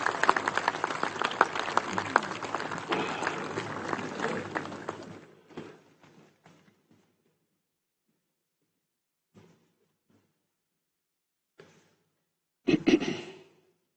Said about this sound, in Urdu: ایک دفعہ پھر بھرپور تالیاں خواتین و حضرات